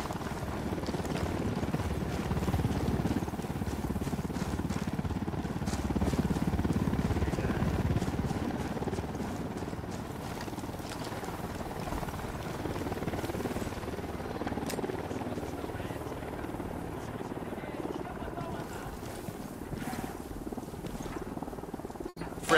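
Helicopter rotor and engine in the video game Tom Clancy's Ghost Recon, a steady low droning rumble throughout, loud and continuous with slight swells, no voices.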